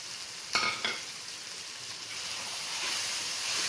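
Beef (bade gosht) fries in a pan with kasuri methi, dried coriander and cumin for shaljam gosht, a dense continuous hissing sizzle with a couple of quick clinks of a spoon near the start.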